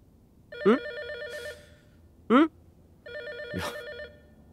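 Telephone ringing in a horror video game, an electronic trill repeating in three separate bursts, with a voice speaking briefly between the rings.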